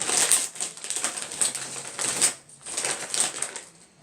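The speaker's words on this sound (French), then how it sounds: "moi, j'ai de la misère à ouvrir des sacs japonais là" A crinkly Japanese snack bag from an Umaibo assortment box being pulled and torn open, giving bursts of sharp plastic crackling and rustling that come in uneven waves, close and fairly loud, with no talking.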